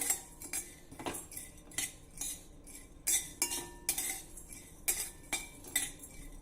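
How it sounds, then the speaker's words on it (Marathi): Spices dry-roasted in a pan, stirred with a metal spoon that gives repeated light scraping clinks against the pan at an irregular pace, close and fairly quiet. "थोडाच वेळासाठी आपल्याला हे भाजायचं आहे खूप अगदी तांबूस वगैरे भाजायचं नाही"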